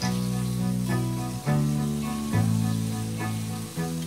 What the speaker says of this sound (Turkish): Şunları kızartalım